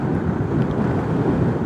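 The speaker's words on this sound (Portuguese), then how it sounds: "Sinto algum abanço por causa do vento" Steady, loud wind buffeting a motorcycle rider's microphone at about 70 km/h in traffic, a dense roaring rumble throughout with no talking.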